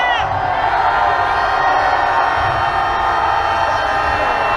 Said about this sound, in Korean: 외교부를 바라보고 함성을 질러주십시오. 함성 시작!